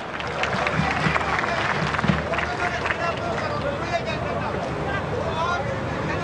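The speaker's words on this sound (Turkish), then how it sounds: "Bir alkışla değerli hocama." A dense wash of crowd applause and hubbub rolls on steadily at an outdoor Turkish oil wrestling event at Sekapark in Kocaeli, with voices mixed into the noise.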